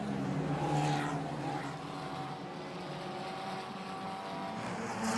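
Formula Regional European Championship race car in qualifying at the Monaco street circuit, its engine a steady mid-distance drone through the swimming pool section, fairly constant with slight swells rather than a sharp pass-by.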